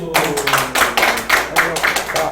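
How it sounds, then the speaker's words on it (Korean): Loud, close group clapping in unison during a church-style gathering, about eight sharp claps in a steady rhythm, roughly three per second. "박수"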